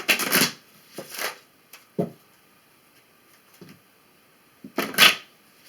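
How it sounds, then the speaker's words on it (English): Cards are shuffled in a few short, crisp riffling bursts, separated by quiet pauses and small soft taps. "put your energy into these cards as we shuffle"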